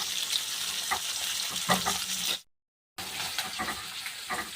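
Chopped onion fries in a pan with a steady, bright sizzle and a few stirring scrapes. The sound cuts to brief silence midway, then the sizzle resumes.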